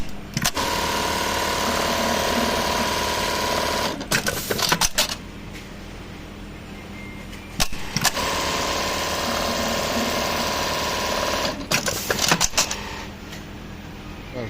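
A Brother RH-8920 industrial buttonhole sewing machine runs with a loud, steady mechanical whir in two long cycles, each ending in sharp clacking bursts as it stops and trims the thread.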